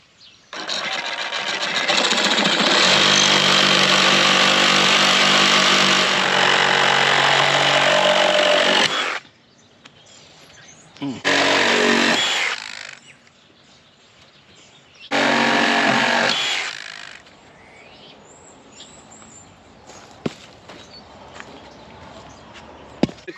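A power tool cuts through wooden posts outdoors, a loud buzzing run of about nine seconds followed by two shorter bursts, with quieter gaps and faint knocks between.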